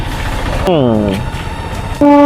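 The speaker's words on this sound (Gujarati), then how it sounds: "ટ્રેન જાય देखो ટ્રેન." A train rumbles past near a railway station as its horn blows, the pitch sliding downward as it passes, then a second loud horn blast sounds close by.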